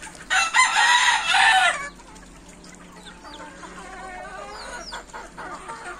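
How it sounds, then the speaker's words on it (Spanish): Chickens with this year's young chicks on a farm, a loud close burst of crowing and clucking for about two seconds, followed by softer scattered clucks and peeps. "Son los pollitos que tenemos para este año."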